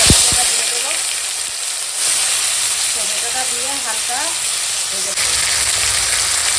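Bay leaves sizzling in hot oil for tomato chutney, a loud, steady frying hiss with crackling bursts.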